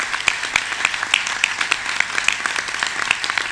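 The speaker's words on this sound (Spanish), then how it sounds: "lo primero que quería pedir es un fuerte aplauso para todos los que se han reunido acá" Audience applause at a young entrepreneurs' gathering in an auditorium, a dense steady patter of many hands clapping at moderate volume with a few sharper claps standing out, continuing throughout.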